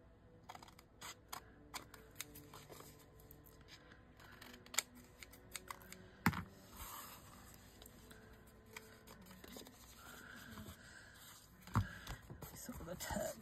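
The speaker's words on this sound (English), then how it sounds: "Yeah, I'm using my kid's scissors again." Small kid's scissors snipping a paper tag during crafting, with sparse crisp cuts and clicks close by at a low level, scattered over quiet room tone.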